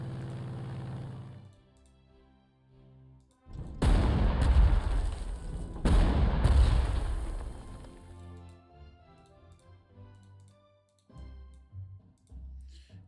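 Artillery bombardment suppressing a flak position in the Panzer Corps 2 wartime strategy game, two heavy booming salvos with rumbling blasts and crackling decay, followed by quieter low thuds and mechanical rumble.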